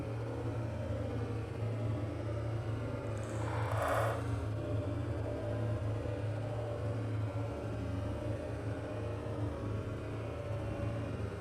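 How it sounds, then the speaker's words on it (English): A car on a dry gravel road rumbles along with a steady low engine drone and a faint crunch of tyres on loose stones, one brief scrape around the middle, no talk. "Why did I pick the gravelly road?"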